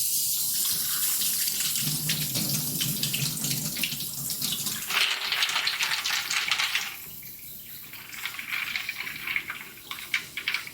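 Kitchen tap running steadily into a sink to fill with water for an ice bath, a loud broadband rush that shifts in tone as the stream changes partway through, with no talking.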